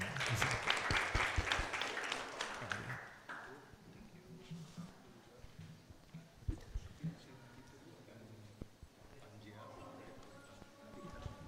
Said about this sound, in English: please applause for our presenters